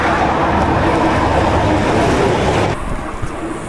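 Heavy freight trucks pass on a busy highway in Central America, a loud, continuous roaring rush of traffic that drops off slightly near the end, heard up close from the roadside.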